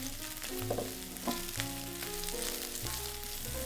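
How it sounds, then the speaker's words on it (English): Dried shrimp, sausage and cured pork fry in a pan for turnip cake filling, a steady close sizzle that runs continuously under sustained tonal background sound, with no talk. "Then add the dried shrimp, sausage, and cured pork. Let that cook for about a minute."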